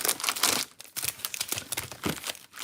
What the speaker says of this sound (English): So let's get the packs out. In fact, we'll just kind of get them out already. Randomized. Shuffle them all up.